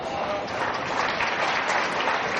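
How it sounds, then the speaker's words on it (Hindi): Steady applause from a large audience at a political rally, dense and continuous throughout with no pauses, sounding fairly close and filling the space. "ताली किसके लिए बजा रहे हो मेरे भाइयों?"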